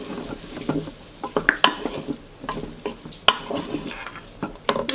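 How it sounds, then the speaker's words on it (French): Chorizo and garlic frying in a pan, with a spoon stirring through them in irregular scraping strokes and clinks over a soft sizzle, close and fairly loud. "je vais ajouter le chorizo, hop, l'ail,"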